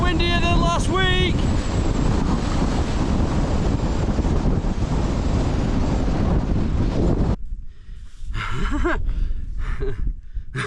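Strong wind on the Crinkle Crags fell buffets the microphone with a loud, rough, continuous roar for about seven seconds, then drops into gustier, intermittent rumbling with brief quieter gaps.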